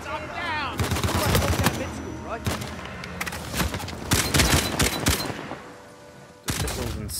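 Rapid gunfire rattles in Uncharted 4 multiplayer, dense bursts of automatic shots and sharp single cracks coming in waves, with a player talking over the fight.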